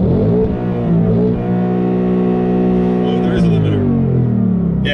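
A 2018 Ford Mustang 5.0 V8 revs loud and close, its deep engine note climbing and then holding a strong, sustained drone.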